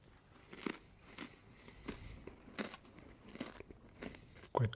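Crunchy puffed rice and groundnut snack being bitten and chewed up close, a series of soft, repeated crisp crunches at a quiet level.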